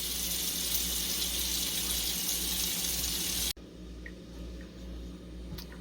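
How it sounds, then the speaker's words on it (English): Two cups of water pour from a tap into an empanada dough mix seasoned with adobo: a steady close rushing hiss for several seconds, then a sudden stop leaving faint quiet handling sounds. "I'm going to add to this 2 cups of water"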